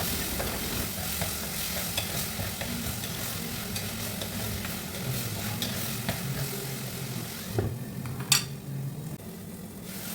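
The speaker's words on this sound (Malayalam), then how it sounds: "അതിലേക്ക് ഒരു കിഴങ്ങരിഞ്ഞതും ഒരു തക്കാളിയും രണ്ട് പച്ചമുളകും ബാക്കി കറിവേപ്പിലയും ചേർത്ത് ഇളക്കി കൊടുക്കാം" Potato, tomato, green chilies and curry leaves are stirred in a hot pan for a chicken and prawn curry, giving a steady close sizzle with scraping spoon strokes and a sharp clink near the end.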